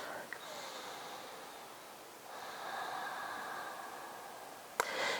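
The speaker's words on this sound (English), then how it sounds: "Take one more breath." During a vinyasa yoga practice, slow, deep breaths come close and soft, each long inhale and exhale drawn out, with a brief sharp sniff near the end.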